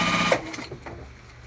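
A sewing machine topstitches a crossbody bag, giving a steady mechanical whir close by that eases off and fades toward the end, with no talk.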